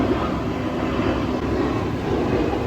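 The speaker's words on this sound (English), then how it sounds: "Look at that A330." An Airbus A330 airliner flying overhead, a steady loud engine rumble and whoosh that stays constant with no talk.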